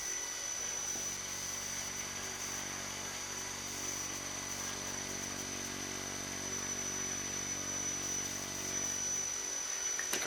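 Small electric motor spinning a propeller at low throttle during prop balancing, a steady high-pitched whine with a constant buzzing hum that holds alone for the whole stretch, fading slightly at the end.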